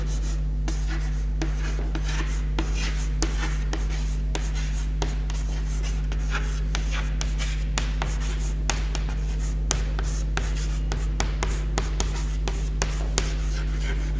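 Notes written by hand during a history lecture, a pen or marker scratching in quick irregular strokes over a steady low hum, close and fairly quiet with no talking.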